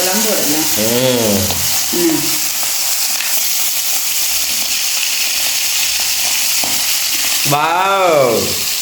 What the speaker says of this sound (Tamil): நல்ல வடிவாக வந்து இப்போ மீன் பொரிக்குது